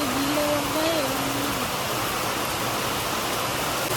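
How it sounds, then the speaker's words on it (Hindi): Heavy rain pours in a steady, dense hiss that fills the whole stretch, with a brief voice or tone sounding faintly over it near the start. "इतनी तेज बारिश आ रही, देखो इतनी तेज, एकदम बिल्कुल धुआंधार बारिश।"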